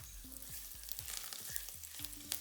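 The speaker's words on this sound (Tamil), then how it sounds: "இஞ்சியை போட்டு நல்லா வதக்கிட்டே இருக்கணும்." Ginger fries in a little sesame oil in a pan, giving a steady sizzle with low scraping strokes as it is stirred at an even rhythm.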